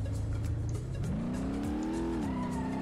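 Simulated car engine in BeamNG.drive, a Nissan S13 drift build with an open differential, revving steadily and rising in pitch as the clutch is kicked, loud and continuous with no talk.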